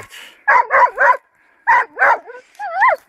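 A female hunting dog barks close by during a wild boar hunt, in quick bursts of three, then two, ending with a higher whining yelp.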